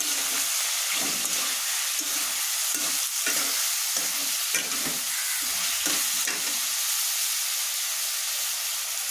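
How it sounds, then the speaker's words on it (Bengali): Spices and salt being stirred into food in a frying pan, a steady sizzle with a spoon scraping and turning the mixture in short repeated strokes, close and continuous with no talk. "এক চামচ লবণ পরে আরও দেবো ভালোভাবে নেড়ে নিই"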